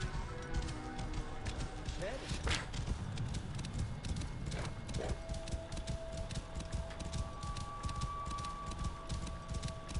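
Horse hooves in Assassin's Creed Origins, a steady rhythmic clip-clop close by, running under a constant bed of game ambience with occasional voices.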